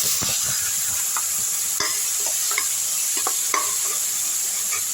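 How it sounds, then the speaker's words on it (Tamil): Ground tomato-onion paste with asafoetida sautés in a pan, a steady sizzle broken by frequent scraping stirs and light clacks of the spoon, close and without talk. "இப்போ இந்த தக்காளி வெங்காயம் அரைச்சோம் இல்லைங்களா அதை எடுத்து விட்டுருக்கோம்"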